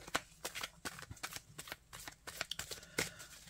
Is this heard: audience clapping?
no